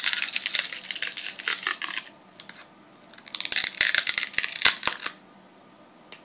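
Tape peeled off makeup packaging, crinkly tearing and crackling in two close bursts separated by a short quiet gap, with small sharp clicks near the end.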